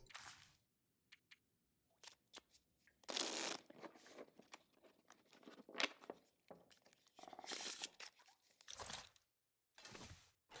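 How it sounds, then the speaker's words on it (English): Playing cards are handled in The Long Dark, heard as intermittent crinkly shuffles, riffles and soft snaps in bursts with quiet gaps between, close and fairly faint. "I guess that sound must be me playing with a deck of cards."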